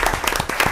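Applause from the audience at a town selectmen's meeting in Ashland, a short burst of brisk, dense clapping heard close and steady.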